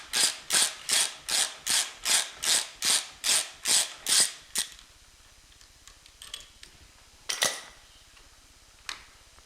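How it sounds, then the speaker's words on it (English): A ratchet with a 7/16 socket backs a bolt out on a Harley-Davidson Sportster, giving about eleven quick, evenly spaced clicking bursts close up, then a few scattered light metallic taps. "I'm going to take a 7/16 socket and remove this bolt"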